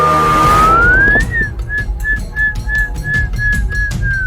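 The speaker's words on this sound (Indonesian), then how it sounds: "Tapi menurut gue kayak suara peluit" A shrill whistle slides upward, then repeats as a series of short, evenly spaced high chirps against a steady background rumble.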